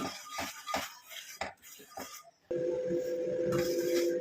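A powdered hair-darkening mix is stirred and roasted in a pan on low flame, giving off heavy smoke. Scraping, clinking strokes repeat for about two seconds, then a steady humming tone takes over.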